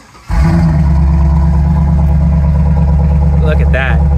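A 2002 Pontiac Trans Am WS6 with an LS1 V8 cranks and fires up, settling into a loud, steady, rumbling idle with a brief blip near the end.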